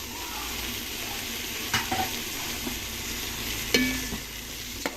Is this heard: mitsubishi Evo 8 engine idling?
no